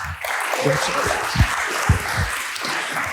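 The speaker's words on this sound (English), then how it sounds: "big round of applause and welcome to Carolina from Silly Solutions" Applause fills the room at an award ceremony, a steady wash of clapping from a crowd with a few louder claps standing out.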